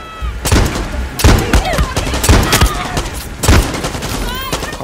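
Revolver fire in the shooter game Far Cry 6: several loud, sharp shots spaced across a few seconds, mixed with other game gunfire and effects.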